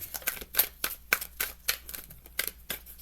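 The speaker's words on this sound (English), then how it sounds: "We're going to get one more shuffle through, and then we're going to get ready as soon as the first card drops." Tarot cards being shuffled by hand, giving a run of quick, crisp riffling bursts in an uneven rhythm, close and fairly quiet, with no voices over it.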